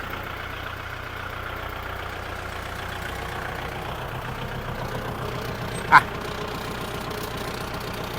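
Kubota L5018SP tractor engine running steadily at close range while gears are shifted, a constant low mechanical drone with one brief clunk near the end and no talk.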